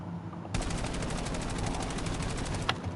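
Automatic gunfire in Call of Duty Black Ops 7 gameplay, a loud burst of rapid, evenly spaced shots that starts abruptly after a short quiet moment and runs steadily to the end.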